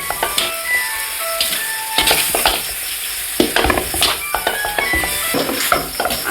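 Chicken sizzles in a pan as garam masala is stirred in, with a steady frying hiss under repeated scraping strokes and light metallic clinks, close and fairly loud throughout.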